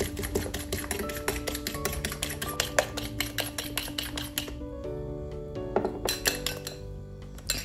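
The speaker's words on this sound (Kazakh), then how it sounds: "екеуін шанышқының көмегімен қантымыз жартылай ерігенше жақсылап шайқап аламыз" A fork whisks one egg with sugar in a bowl, making a quick, steady run of bright metallic clinks against the bowl's side, with music playing underneath.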